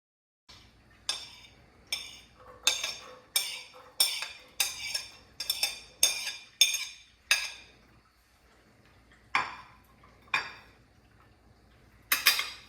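Diced jalapeño peppers stirred in butter in a pan over medium-low heat: a run of sharp metallic clinks and scrapes of a utensil against the pan, rapid and regular, then a pause and a few more strokes.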